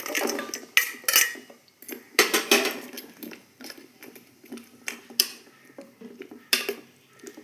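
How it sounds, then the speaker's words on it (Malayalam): Paneer stirred in a metal pan for a paneer biryani, with irregular spoon clanks and scrapes against the pan in a steady rhythm, close and fairly loud. "ഇതിലേക്ക് പനീർ ചേർത്ത് ഇളക്കി വെക്കുക"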